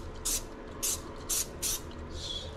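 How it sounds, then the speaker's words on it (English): Cooking oil spray misted onto a pan for beef chow fun, four short hissing bursts at an even rhythm followed by a softer fifth spray, close and clear over a low kitchen background hum. "I got my oil spray for my pan. I just spray this up."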